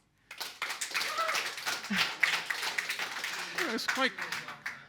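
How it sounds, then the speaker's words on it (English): A debate audience claps and applauds loosely, with scattered claps and voices mixed through the noise, moderately loud throughout. "please applaud now"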